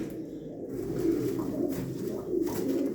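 Pigeons from a loft coo close by, soft low burbling calls that repeat and overlap over a steady background of rustling.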